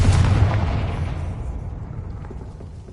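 A Confringo fire spell from Hogwarts Legacy bursts into a single loud, deep explosion that rumbles and slowly fades out over a few seconds.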